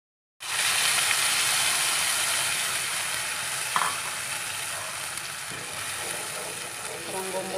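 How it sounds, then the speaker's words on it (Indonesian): Steady loud sizzling of spice paste frying in a pan, a continuous hiss with occasional faint clinks of stirring. "Kemudian akan saya lanjutkan dengan menggoreng bumbu yang berikutnya."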